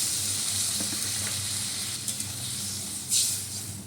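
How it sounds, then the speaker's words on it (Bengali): Potatoes frying with ginger paste in a pan as a little water is added, a steady loud sizzle and hiss close by, briefly flaring near the end. "একটু জল দিয়ে দিচ্ছি"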